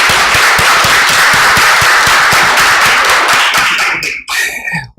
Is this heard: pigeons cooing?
no